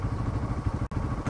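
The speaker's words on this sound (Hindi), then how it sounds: "इंजन हेड के वहाँ से मुझे ऐसा डाउट हो रहा है, टक टक टक कुछ आवाज़ आ रही है।" A motorcycle engine runs close and loud with a rapid ticking clatter from the engine head, a steady mechanical rattle with one brief dropout near the end.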